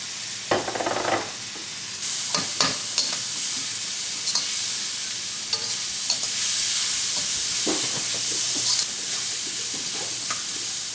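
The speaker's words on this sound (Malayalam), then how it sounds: "ഇനി ഈ ജിഞ്ചർ ഗാർലിക് പേസ്റ്റ് നന്നായിട്ട് മൊരിയുന്ന വരെ നമുക്കൊന്ന് മിക്സ് ചെയ്യാം" Ginger garlic paste fries in hot oil for a Chettinad chicken curry, a loud close sizzle broken by repeated scraping stirs of a spoon against the pan.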